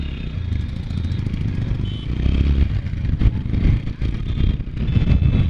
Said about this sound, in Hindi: देखो काफी मिसिंग मार रही है, काफी झटके दे रही है